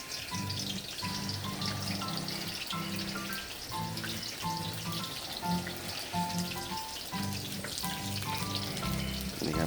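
Pounded spice paste stir-frying in medium-hot oil for a Chiang Tung-style fried tilapia hoop, a steady close sizzle with a repeating stirring rhythm and some background tones throughout.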